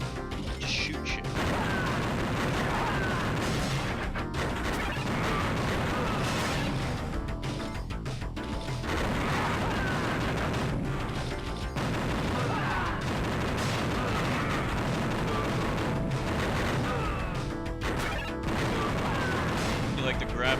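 Constant loud gunfire and crashing impacts from a video game, dense and continuous, with someone talking intermittently beneath the action.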